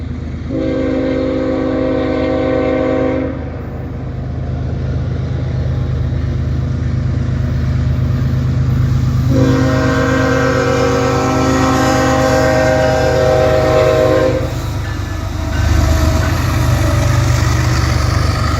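A loud Norfolk Southern freight locomotive in Conrail heritage livery rumbles steadily past, heading westbound through Homestead with an empty autorack train, while its horn sounds in two long blasts, the second held for several seconds.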